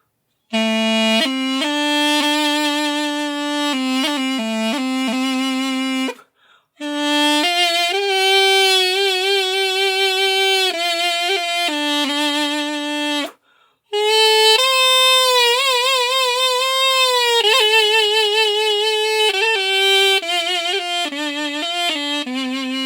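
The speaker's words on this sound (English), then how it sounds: "Abudara, dark flute." A reedy, nasal Taiwanese dark flute plays a long melodic line with heavy wavering vibrato, loud and close, pausing briefly twice between phrases.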